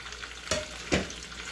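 Sliced onion going into a hot pan for restaurant-style Bombay chicken, giving two brief sizzling bursts over a steady low frying hiss, with no voices.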